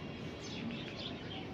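Racer pigeons coo and chirp softly in a loft, the calls faint beneath a steady, noisy background hiss with no talking.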